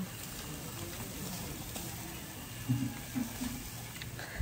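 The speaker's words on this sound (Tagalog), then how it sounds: "Maulan." Rain falls steadily on Mali-Mali Street, a soft, even outdoor hiss that is fairly faint, with a few low thumps and knocks rising briefly near the end.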